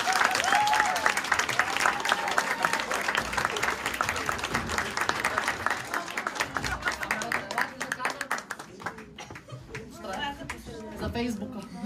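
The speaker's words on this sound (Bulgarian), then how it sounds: "Аплодисменти силни." A large audience at a graduating students' Christmas show at a music school claps loudly in dense, sustained applause that fades toward the end, with some cheering and chatter mixed in.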